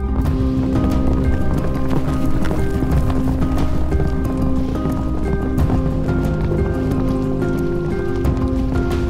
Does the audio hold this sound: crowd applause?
no